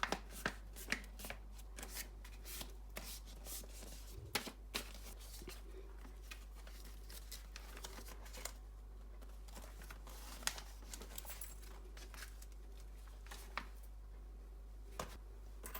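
Paper signatures for a junk journal are folded in half by hand, giving a series of crisp crinkles and sharp creasing snaps over a low steady hum, close and without speech.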